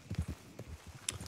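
Horse hooves clip-clopping at a steady walking rhythm in the video game Red Dead Redemption 2, close and fairly soft, with no voices.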